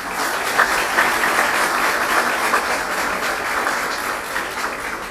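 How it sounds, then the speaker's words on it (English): Sustained applause from the audience at a City of Newport News Leadership Development Academy graduation ceremony, many hands clapping in an even, continuous wash from start to finish. "let's give yourselves once again a round of applause"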